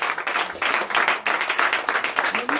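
A church congregation at a Sunday worship service claps in steady rhythmic bursts, lively and close, with voices mixed into the clapping.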